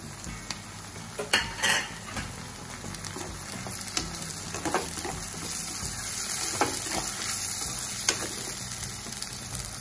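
Onions and tomatoes sautéing in a pan for a Mangalore-style boi fish curry make a steady low sizzle, with occasional scrapes and clinks of a spoon stirring against the pan throughout.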